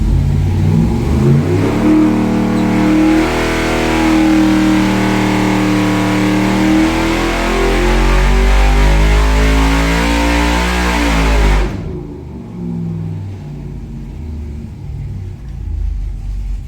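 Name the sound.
600hp street build engine revving, possible exhaust leak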